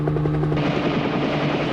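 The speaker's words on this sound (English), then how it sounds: "where the hell is this helicopter landing?" Steady thumping rotor beat and whining turbine of a helicopter in the animated film Ghost in the Shell (1995), loud and continuous, heard alone.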